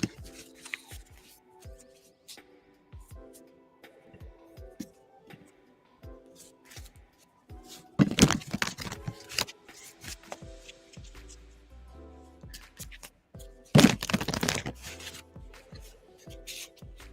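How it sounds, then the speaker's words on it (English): Tarot cards being shuffled during a live reading, with soft repeated riffling and rubbing, including two louder bursts of bridging and cascading about five seconds apart. No one speaks and faint background music plays underneath. "We are shuffling for our free reads right now."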